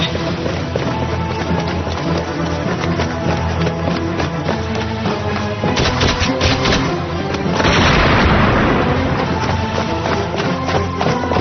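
A cartoon magic blast fires at a wall in a Hindi-dubbed Winx Club episode, a loud dense roaring barrage with heavy booms that swells further near the end, mixed with background music.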